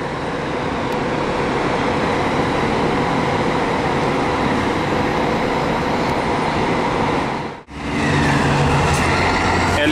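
An LD Turismo coach operating for Eucatur at Porto Alegre bus station, a loud, steady engine rumble close by, broken by a sudden brief dropout before the throbbing engine returns.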